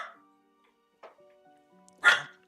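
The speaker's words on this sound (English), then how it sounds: "Stop doing a woof woof." A dog gives a few separate barks and yips indoors, short and sharp with pauses between them, the last one the loudest.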